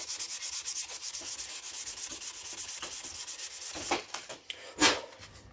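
A plastic chainsaw housing is hand-sanded with 600 grit sandpaper: close, rhythmic back-and-forth rubbing strokes repeat steadily, then turn into a few irregular scrapes.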